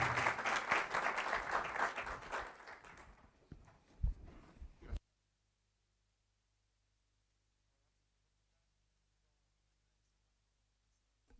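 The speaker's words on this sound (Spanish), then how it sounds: "Así que le damos un gran aplauso" Audience applause for a speaker at a recycling debate in Chile, loud dense clapping for about five seconds that ends abruptly, followed by near silence.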